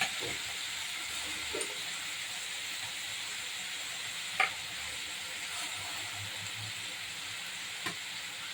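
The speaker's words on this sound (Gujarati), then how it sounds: "કાંદાને આપણે એકદમ સોતળશું, જ્યાં સુધી કાંદાનો કલર ચેન્જ ન થાય ત્યાં સુધી આપણે કાંદાને સોતળવાના છે" Onions sizzle and fry steadily in a pan for pav bhaji, with a constant loud hiss and a few faint scrapes of stirring.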